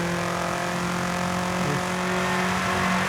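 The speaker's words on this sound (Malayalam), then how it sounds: "ലംബോർഗിനി അല്ലേ പോണത്?" A Lamborghini sports car roars past at speed, its engine note loud and steady with a slight rise, heard alone with no voices.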